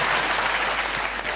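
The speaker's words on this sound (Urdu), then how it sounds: "ایک بار رضوان صاحب کے لیے تالیاں بجا لیں شعر کے لیے" A crowd at an Urdu mushaira claps loudly and steadily, a dense, sustained burst of applause filling the hall with no speech on top.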